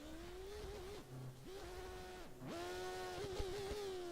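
Formula 1 car in F1 2013 accelerating out of a corner at Jerez, its high engine note climbing steadily through gear changes with brief dips between shifts, loud and continuous with no talk.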